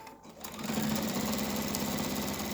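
A sewing machine runs steadily as it stitches a 2-inch dart in a chenille bowl caddy, starting after a brief pause and continuing as a close, even mechanical hum with a fast stitching rhythm.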